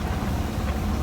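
A sailboat at sea running on its motor with the mainsail up at six to seven knots in rough water, a dense low rumble of engine, hull and wind noise, steady and close with no voices.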